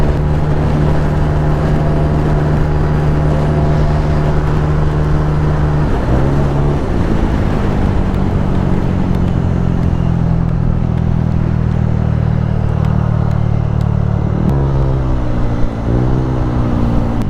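A motorcycle engine drones steadily and close, its pitch shifting now and then as the bike rides along.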